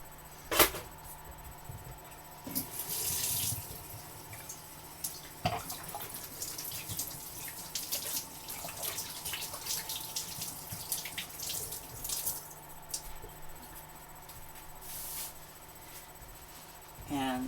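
Tap water runs steadily into a kitchen sink while hands are washed during a gluten-free molasses cookie bake, a continuous close hiss with brief splashes and clatters, and a voice talks intermittently over it.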